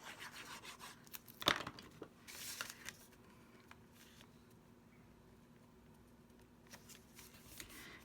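A designer series paper layer is handled while a greeting card is assembled, giving soft papery rubs and a sharper scrape early on before the rustling settles to quiet, close handling noise, with no talk.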